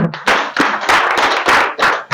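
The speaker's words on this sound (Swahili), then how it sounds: "makofi kwake" Applause for a speaker at an outdoor street discussion in Kariobangi: loud, close clapping from a crowd in dense repeated bursts for about two seconds.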